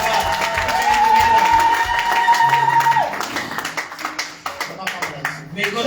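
Congregation clapping and cheering in a church service, a dense steady wash of applause with crowd voices and music that thins and turns more scattered after the midpoint.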